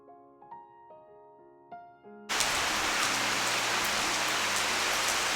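Quiet tonal sounds give way to a sudden, steady roar of heavy rain, a loud dense wash that continues without letup.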